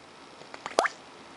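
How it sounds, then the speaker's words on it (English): An Onoto 5601 plunger-filler fountain pen with its nib in ink, giving a few soft gurgles and then one clear, close liquid plop followed by quiet. "You've got a lovely bubbling sound and a nice, if you like, a nice sort of plopping sound"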